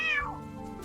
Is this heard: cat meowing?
yes